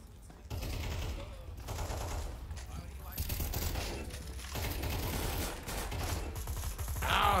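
AK rifle gunfire in the CS:GO shooter game, repeated shots and bursts crackling through the whole stretch amid game noise, with a voice talking over it.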